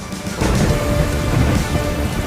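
A thunderstorm roars with heavy rain falling steadily and a low rumble of thunder building under it, loud and close with no voices.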